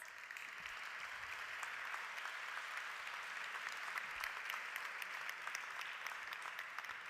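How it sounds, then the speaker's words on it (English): A large audience at a hospitality awards ceremony claps in a dense, even roar of applause that holds steady at a moderate distance throughout, with no voices over it. "All right, let's give him a big round of applause."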